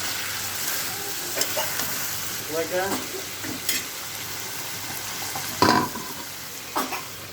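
Duck meat sizzles steadily in a pan as a spatula stirs and scrapes it, with irregular clinks and scrapes over a continuous frying hiss.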